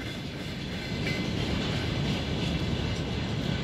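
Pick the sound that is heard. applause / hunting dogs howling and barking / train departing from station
train departing from station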